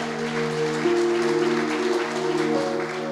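A church congregation claps steadily in a dense, sustained round of applause, with a held organ or keyboard chord sounding beneath it.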